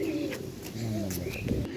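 Racing pigeons at a pigeon farm coo in low, throaty warbles, close and fairly soft, layered with a few faint chirps and background murmur.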